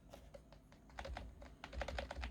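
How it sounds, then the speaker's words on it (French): Fingers type on a membrane computer keyboard, a run of soft, muffled key presses in irregular bursts, close and quiet. "Pour un clavier à membrane, je trouve que ça va encore. Il fait pas énormément de bruit."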